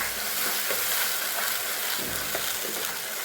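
Paste of onion, tomato and chili fries in a pan with a dense, loud, steady sizzle and faint scraping as it is stirred, and no speech.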